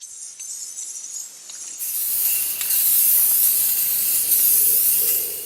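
PlastiKote aerosol spray paint priming a metal bench, a quiet lead-in followed by a loud, steady close hiss that holds for several seconds before easing off.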